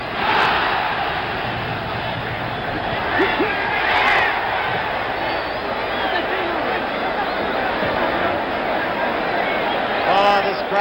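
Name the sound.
boxing crowd roaring during the fight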